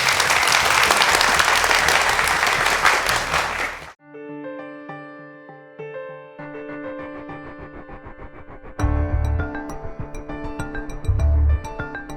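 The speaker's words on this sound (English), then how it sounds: "So please give them a big applause" A studio audience at a women's television show bursts into loud, dense applause for several seconds, then it cuts off abruptly and music takes over.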